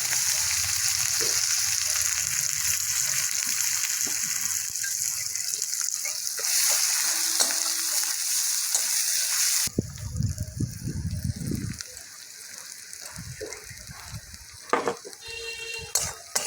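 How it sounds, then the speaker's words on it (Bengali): Onions sizzle loudly in hot oil in a pan, a dense continuous frying hiss that turns choppier partway through as they are stirred, with scraping and clatter near the end. "পেঁয়াজটা আমার লাল লাল করে ভাজা হয়ে গেছে।"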